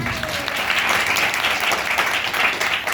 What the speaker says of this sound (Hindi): जोर से ताली मारिए